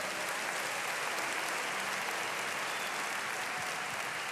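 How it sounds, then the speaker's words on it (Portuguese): Steady, dense applause from a church congregation fills the whole stretch, a continuous wash of many hands clapping at a constant level with no break. "Eu quero ouvir uma salva de palmas essa palavra."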